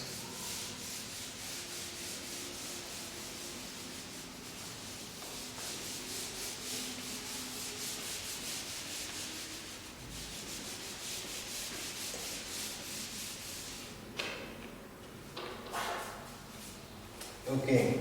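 A board eraser or cloth rubs out writing during a maths lesson, a steady broadband scrubbing that runs almost continuously, ending in a few louder bumps.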